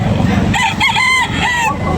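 A rooster crows loudly and close at a chicken sale in Tabunok, Talisay, Cebu, one drawn-out call rising over a busy, noisy market background.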